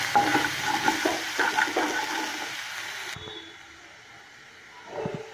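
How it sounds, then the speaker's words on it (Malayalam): Ginger-garlic paste frying and being stirred in a pan for a Kerala-style beef pepper fry: a loud, dense sizzle for about three seconds that then drops to a softer simmer, with a brief scrape of the spoon near the end. "ഇതിലേക്ക് നമുക്ക് ഇഞ്ചി വെളുത്തുള്ളി പേസ്റ്റ് ഇട്ട് കൊടുക്കാം. ഇതിൻ്റെ പച്ചമണം മാറുന്നത് വരെ നമുക്ക് ഇളക്കി കൊടുക്കാം."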